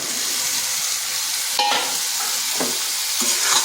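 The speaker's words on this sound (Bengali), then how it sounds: "দিয়ে দিচ্ছি ভেজে রাখা আলু আর এঁচোড়টা।" Pre-fried potatoes and jackfruit go into hot oil in a pan, a constant sizzling hiss with several scraping stir strokes and spoon knocks, close and unaccompanied by speech.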